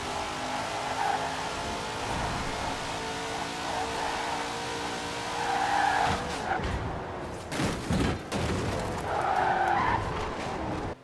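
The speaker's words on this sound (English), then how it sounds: "So number 2, we've got the 1918 brake horsepower Hot Wheels Twin Mill." The 1918-horsepower Hot Wheels Twin Mill in the racing game Forza Horizon 4 drives hard, with a sustained engine drone and repeated loud tire skids and squeals as it corners, alone without talk.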